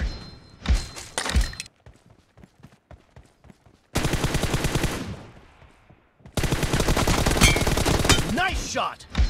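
An M416 assault rifle fires in a video game: loud, close bursts of automatic fire come in three separated volleys with near-silent gaps between them.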